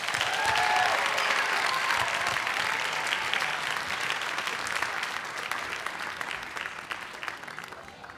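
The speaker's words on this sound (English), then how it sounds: "One last round of applause for the 5th grade class." Audience applause for a 5th grade class at a school DARE graduation, sustained clapping from a crowd that starts strong and gradually thins and fades toward the end.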